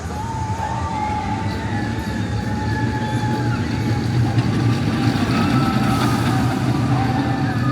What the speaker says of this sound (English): See the train there passing above the trestle.